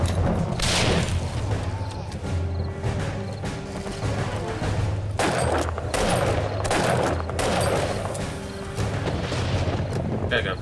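Grenade blast in the zombie survival game 7 Days to Die, a loud boom amid continuous rumbling game noise and scattered impacts, with a voice talking over it.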